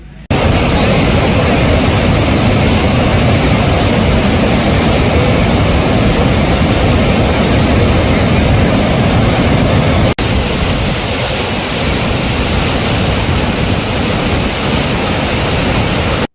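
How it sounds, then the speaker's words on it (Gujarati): Water spilling over a dam and cascading as a waterfall in Zer village near Chhota Udepur, a loud, steady broadband roar that fills the whole stretch with no let-up. "ડેમ પરથી પાણી ઓવરફ્લો થતાં ઝરણા રૂપે તે પાણી વહી નીકળતા"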